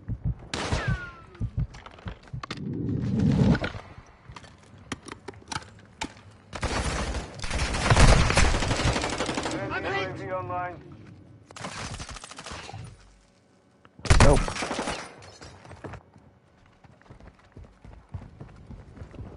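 Gunfire in the shooter game Modern Warfare 2, bursts of rapid automatic fire and scattered shots in several loud clusters separated by quieter gaps, with faint voices and game noise between.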